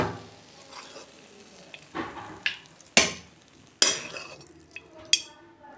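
A cooked banana flower mixture being scraped and poured out of a hot pan: several sharp metallic scrapes and clinks spaced apart over a soft background sizzle.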